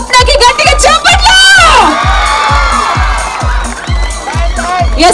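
Crowd at a 5K run prize ceremony cheers and shouts loudly for the first woman finisher. Rhythmic low thumps, likely drum or music beats, run steadily underneath the continuous noise.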